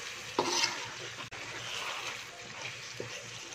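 Chicken kadai with whole green chilies cooking in a pan: a continuous close sizzle with a few stirring scrapes and one sharp utensil knock, no talking.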